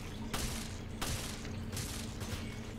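Enemy gunfire in Resident Evil: Revelations, four spaced bursts of sharp, crackling shots roughly every two-thirds of a second over a steady low hum.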